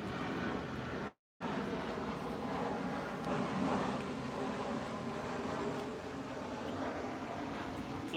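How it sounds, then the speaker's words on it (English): A fixed-wing airplane passes overhead, a broad steady rumble and roar that swells slightly then eases, heard alone outdoors without talk. "Let this airplane go by."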